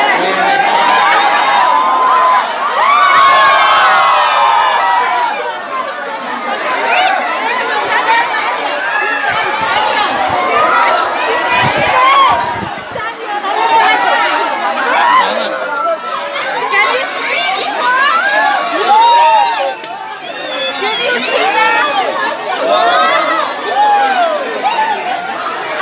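A dense crowd packs the tiger viewing area at Rani Baug zoo, with overlapping chatter, children shouting and excited cries, and occasional laughter and cheering in a continuous, loud, close hubbub.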